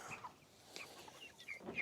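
Cornish Cross chickens clucking on a farm, several soft, faint clucks and chirps scattered across a quiet background, close by but low in level, with no talk.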